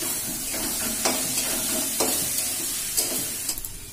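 Tomatoes cooking in a pan give a soft continuous sizzle, broken by a few sharp stirring scrapes about once a second, close by and with nobody talking.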